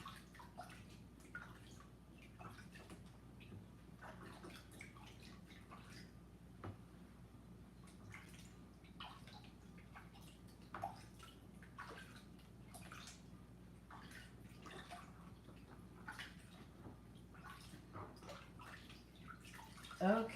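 Fertilizer water for potted Phalaenopsis orchids runs and trickles steadily into a bucket, a quiet continuous splashing flow with scattered drips throughout, growing louder briefly at the very end.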